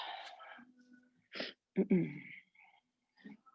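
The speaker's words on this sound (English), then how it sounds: "Sorry for the sniffles there." Quick nasal sniffs and breathy intakes during a quiet hatha yoga class, a few short bursts separated by silence, close to the microphone with some faint murmuring between them.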